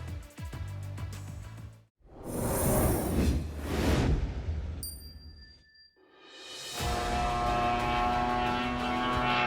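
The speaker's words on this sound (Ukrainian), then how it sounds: "Один за одним дрони летять атакувати мирні міста нашої країни. Їхній гул знає кожен українець." Attack drones fly overhead during a raid on Ukrainian cities, their engines droning in a steady tonal hum that swells and fades as they pass, with rushing whooshes between.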